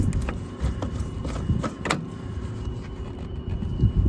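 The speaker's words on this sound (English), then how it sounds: "I hear the blower running." Steady blower fan of a York package HVAC unit that is not heating, a continuous broadband whoosh running close by throughout, with a few light clicks and knocks over it.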